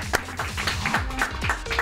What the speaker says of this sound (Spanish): yo quiero que esos aplausos suenen bien duro